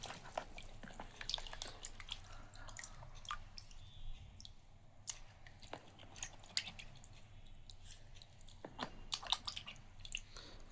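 A ring cleaned with toothpaste is rinsed under water, giving quiet splashes, drips and wet squishing handling sounds, close and faint.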